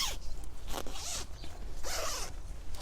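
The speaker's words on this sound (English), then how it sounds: "I need both my hands to unzip this little tent right here." A small garden tent's zipper is pulled open outdoors with both hands, giving several close, raspy zipping strokes in quick bursts with no talking.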